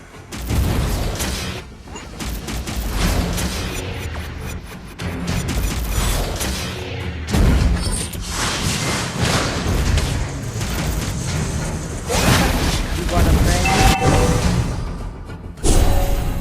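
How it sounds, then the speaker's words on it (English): Mobile Legends match audio as a turret is destroyed, with loud repeated booming crashes and mechanical clatter filling the mix throughout, in dense bursts with brief dips between them. "Your team destroyed a turret."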